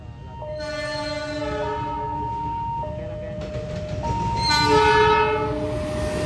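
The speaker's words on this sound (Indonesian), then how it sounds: "di sini masuk kereta api Jenggala rangkaian darurat" Train horn blasts in chords, several sustained notes changing pitch, over the rumble of the Jenggala train, an emergency trainset, rolling into a station.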